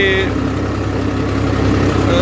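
A tractor engine chugs steadily while pulling a rotavator across a field, a loud, close, rhythmic low rumble that continues throughout.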